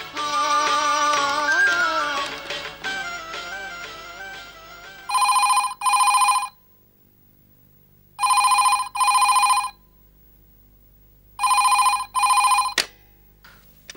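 A telephone rings in three double bursts, loud and near, with a short pause between each pair, following a stretch of background music on a Telugu TV serial set.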